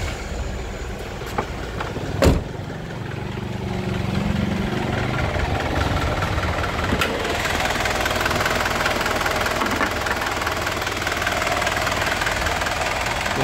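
A car engine cranks and catches with a sharp burst around two seconds in, then settles into a steady, even idle that rumbles on unchanged and close by, with no voices.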